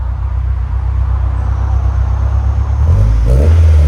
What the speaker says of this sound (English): Yeah, it's not crazy loud. Nice clean idle to it.